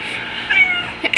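A big, fat house cat gives a short meow, rising briefly and ending with a second quick cry, close and clear against a quiet room.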